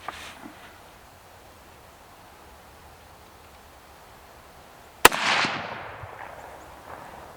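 A single sharp, loud 6.5 Grendel rifle shot fired outdoors at a pumpkin target, followed by a rolling echo that fades over about two seconds after a quiet lead-in.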